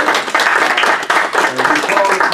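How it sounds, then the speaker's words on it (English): Lecture audience giving a round of applause, a dense burst of clapping close by that stays fairly loud through the clip. "Let's give one more round of applause to yourselves"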